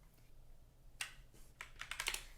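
Computer keys are tapped to paste a command on a Raspberry Pi setup: a few isolated clicks, then a quick cluster of close, crisp keystrokes near the end, with a quiet room hum beneath.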